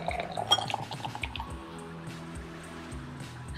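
Stout or IPA beer poured into a glass, with gurgling liquid and light clinks at first, then settling into a quieter, soft trickle.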